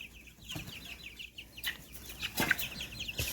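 Baby poultry on a farm, guinea fowl keets and orange Brahma chicks, peep and cheep in a steady, busy chorus of high chirps. Brief rustling and a few louder bursts of calls break in, and nobody speaks.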